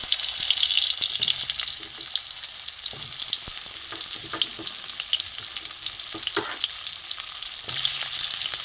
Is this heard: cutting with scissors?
no